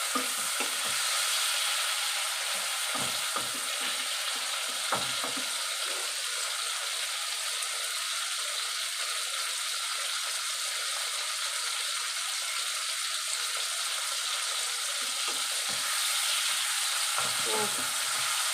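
Prawns and potatoes fry in hot oil with a dense, steady hiss that runs unbroken for the whole stretch, broken by occasional spatula scrapes and knocks near the start and end.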